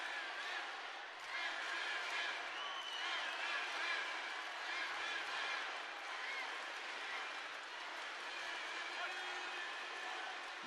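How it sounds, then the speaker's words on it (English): A large arena crowd in the Trax Arena, Chelyabinsk, at a taekwondo world championship semifinal, roars steadily and chants for the Russian athletes throughout, a dense continuous wash of voices. "Crowd here in the Trax Arena in Chelyabinsk chanting for the Russian athletes"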